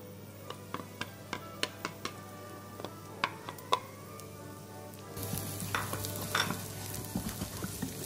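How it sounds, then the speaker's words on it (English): Minced garlic goes into hot oil in a pan and is stirred, first as sharp regular clinks of a utensil on metal and then as a louder, steady sizzle with further scraping stirs. "We'll put in the garlic for about 30 seconds"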